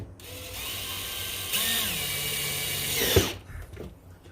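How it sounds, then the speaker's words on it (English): A power drill drives screws into the case of a Stanley FatMax Professional power station during a battery replacement, with a sustained close whirring whine that changes pitch partway and ends in a sharp click and stop. "just gonna go around screwing everything in"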